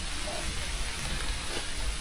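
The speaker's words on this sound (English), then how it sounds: "Be better if it wasn't raining though." Steady rain hisses down around a broken-down truck and off-road gooseneck trailer stranded 105 miles out, forming an even, dense wash of noise with no distinct drops standing out.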